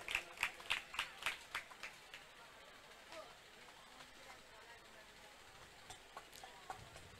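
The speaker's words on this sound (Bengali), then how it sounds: "একটু জোরে হাততালি দিয়ে উৎসাহিত করবেন ওনাদেরকে।" Audience at a community club's mosquito-net distribution event in Hooghly claps in a short burst of loud applause at the start. The clapping fades into quieter crowd noise, with a few scattered claps near the end.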